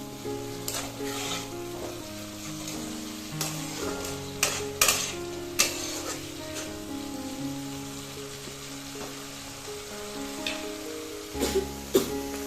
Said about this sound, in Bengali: এবার মশলাটিকে ভালোভাবে কষিয়ে নেব